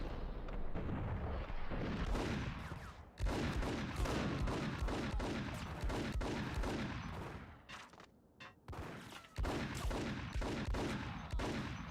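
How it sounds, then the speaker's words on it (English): Dense enemy gunfire in the Max Payne video game, rapid overlapping shots and bursts in a sustained barrage with a brief lull before resuming, loud and close, no talk. "They are in fact shooting me."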